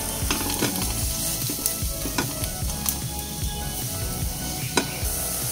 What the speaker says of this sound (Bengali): মিডিয়াম ফ্লেমে সমস্ত মশলাগুলোকে একটু নেড়ে চেড়ে রোস্ট করে নিতে হবে